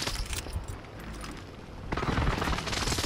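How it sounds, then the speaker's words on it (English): Enemy precision airstrike in a shooter video game, a rapid burst of crackling explosive impacts and debris, loud and close, swelling again near the end amid dense gunfire-like clatter. "Enemy precision airstrike."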